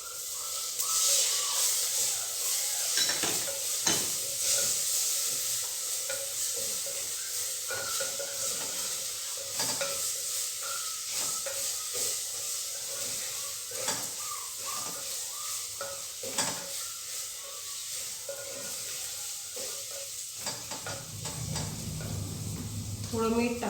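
Coriander powder and tomatoes stirred and fried in a pan, a steady sizzle with repeated scrapes of the spoon against the metal, close and continuous for most of the stretch before it drops away near the end.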